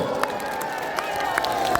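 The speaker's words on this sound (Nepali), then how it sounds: "आदरणीय दाजुभाइ दिदीबहिनीहरू, ताली बजाउनु पर्छ" A large outdoor crowd at a political rally in Rabi Bazar, a steady loud wash of clapping and cheering with scattered sharper claps throughout.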